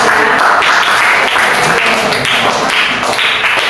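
Classroom applause for a student named Iqmal, a loud close burst of dense clapping filling the few seconds without pause.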